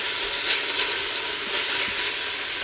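Seared lamb and spices sizzling in a pan for a tagine, a steady loud hiss of frying that holds without a break.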